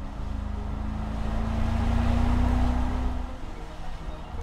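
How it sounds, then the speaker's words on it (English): A V8 sports car accelerates hard, a deep engine drone rising in loudness and pitch over a few seconds before easing off, heard from inside or close by. "if you put your foot down, you get those beautiful V8 engine sounds"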